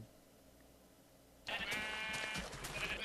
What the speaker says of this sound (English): I am shearing colored sheep